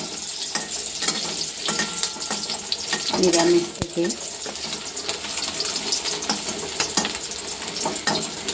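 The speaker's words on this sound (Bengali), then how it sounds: "আর পনিরটা এইভাবেই ভেজে নেব, তারপরে কেটে নেব" Paneer sizzles and fries in oil in a new kadai, a steady crackling hiss with a brief stirring clatter partway through and a few quiet words spoken over it.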